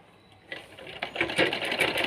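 A sewing machine stitches a Punjabi dress, starting quietly and building into a steady, close, rapid mechanical whirr and clatter that grows louder toward the end.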